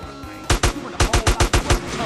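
Gunfire in Grand Theft Auto: San Andreas: a burst of loud, sharp game gunshots, two quick reports followed by a rapid string of about six more, spaced like automatic fire, with a faint background bed.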